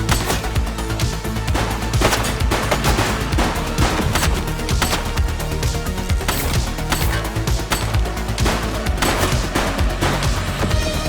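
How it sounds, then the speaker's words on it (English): Dense, continuous gunfire fills a firefight in the police game The Precinct, loud rapid shots overlapping with sharp cracks and impacts, no pause across the whole stretch. "He's shooting!"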